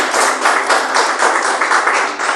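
A church congregation claps in a steady, rhythmic beat, loud and close, with about a dozen even claps per second-long stretch, no talk over it.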